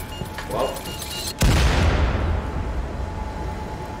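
A single heavy gunshot in the virtual reality shooter Firewall Zero Hour, a loud sudden blast with a long rumbling decay, after a moment of quieter game ambience.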